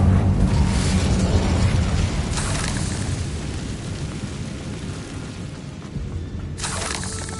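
A fiery Incendio spell erupts in Hogwarts Legacy as a sustained, roaring whoosh of flame, loudest at the start and slowly fading, with a brief crackling burst flaring up near the end.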